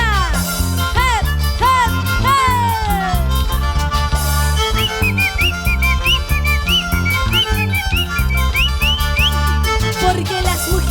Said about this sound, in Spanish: Porque las mujeres también sabemos silbar.